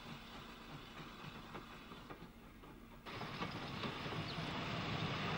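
Narrow gauge steam locomotive No. 12, formerly of the Cork, Blackrock and Passage line, on the Cavan and Leitrim Railway at Ballinamore, with a steady mechanical rumble and faint clanks that grow louder and busier halfway through.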